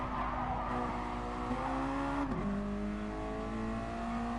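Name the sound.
MX-5 race cars braking into turn 1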